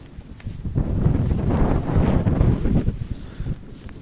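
Gusty wind blowing across an outdoor women's football pitch during a league match, buffeting the microphone with a loud, steady low rumble that swells and eases over a few seconds.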